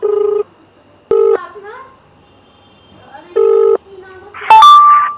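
Repeated electronic ringback tones sound in short bursts with pauses between, as a phone call connects; a voice speaks briefly near the end.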